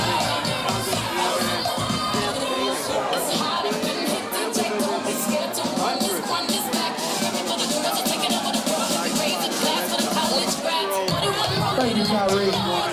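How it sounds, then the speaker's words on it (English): A loud, dense crowd at an election victory party for Trudy Busch fills the space with steady shouting, cheering and chatter, a continuous roar that barely dips for the whole stretch. "Look at this loud crowd."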